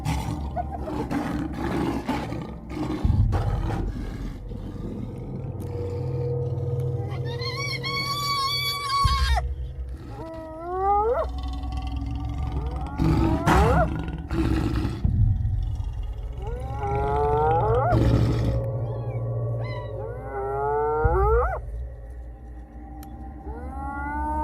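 An African lion lets out repeated deep, loud roars with rising and falling moans, near and powerful, broken by short thumps and rustles in the wild, with no talking.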